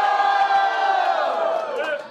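Loud crowd at a Brazilian rap battle in Londrina roaring and shouting in a sustained, dense wall of cheers and whoops that swells and then tapers at the end.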